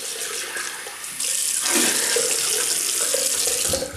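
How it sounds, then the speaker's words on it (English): A bathroom tap runs steadily into a sink while someone rinses off after a shave with a Gillette Fatboy adjustable razor, the water close and loud and swelling as the flow increases. "Right then, rinse off."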